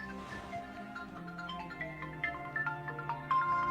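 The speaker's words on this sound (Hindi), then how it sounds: "देखिए फोन किसका बज रहा, आरती का तो ना है फोन" A mobile phone rings with a melodic tune, a sequence of bright tonal notes rising in loudness over a few seconds, heard alone without talk.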